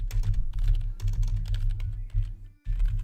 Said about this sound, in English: Type in headshot.